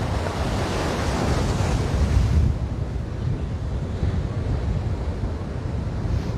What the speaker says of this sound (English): sorry about the sound if it's really windy now.